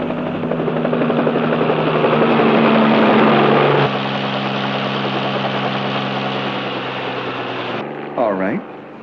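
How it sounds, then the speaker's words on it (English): Loud, steady helicopter rotor thumping close overhead as it circles a roof, holding level then fading slightly, with a brief rising whine near the end. "They've even got a helicopter circling over the roof."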